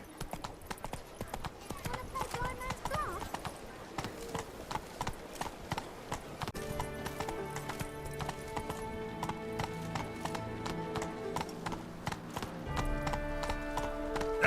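Hooves of Roach, Geralt's horse in The Witcher 3, pound in a quick, regular galloping rhythm throughout, close and clear, with game music rising behind them and a voice speaking briefly.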